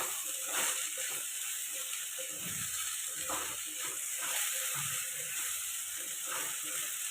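Okra is stir-fried with masala in a pan, giving a steady hiss of sizzling with irregular scraping and stirring clatter close by, and a voice speaks briefly underneath.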